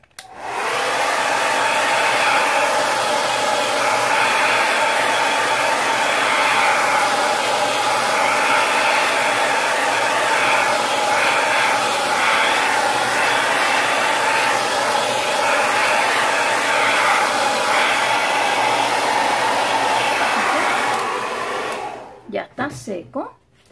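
A hair dryer blows steadily across a painting surface, a loud continuous whirring hiss held for about twenty seconds before it is switched off and stops.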